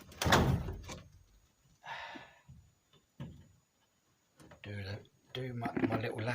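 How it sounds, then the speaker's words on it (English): A greenhouse door in a vegetable patch swings shut with a short knock and rattle, amid scattered handling noises. Someone talks briefly at the start and again near the end. "Quick swing in the door."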